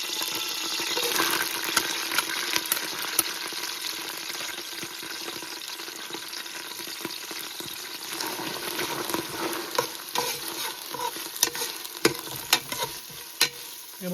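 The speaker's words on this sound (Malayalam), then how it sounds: "സവാള ഇതിലേക്ക് ഇട്ട് വഴറ്റാം." Sliced onions sauté in hot oil for a chicken madhooth dish, giving a steady moderate sizzle with scattered scraping stir clicks that grow busier toward the end.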